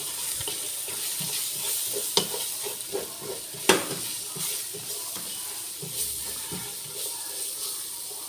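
Spices are stirred in a hot pan while cooking grilled chicken and basmati rice, giving a steady close sizzle with repeated scraping stirs and a few sharp utensil clinks, with no talking.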